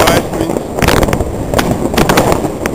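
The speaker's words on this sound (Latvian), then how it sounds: "Uguņošanu ķīpa." New Year's Eve fireworks going off outdoors, several sharp cracks and bangs scattered across a noisy, hissing background, loud and close with a faint voice mixed in.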